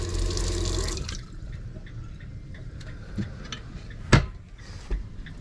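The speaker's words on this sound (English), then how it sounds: "You can see it's plenty of water flow." A faucet fed by a positive displacement pump in a 2016 Dodge Promaster 3500 van runs in a full gush for about a second, then shuts off, leaving scattered drips, light clicks and one sharper knock.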